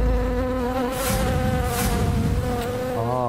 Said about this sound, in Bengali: দেখ কত বড় মৌচাক দেখেছিস?